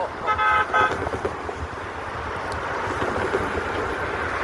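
A three-car train with coaches passes at a distance, a brief two-tone horn toot early on, then a steady rolling rumble of wheels on track that lingers to the end.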